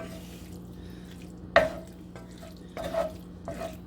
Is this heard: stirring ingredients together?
yes